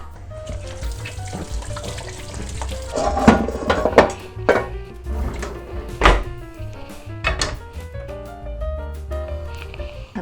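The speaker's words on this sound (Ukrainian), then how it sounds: "а ми зараз будемо виймати сковорідку." A frying pan being pulled out in a home kitchen while preparing chicken fillet: scattered metallic clanks and dull thunks of cookware, several sharp knocks close by, with no talking.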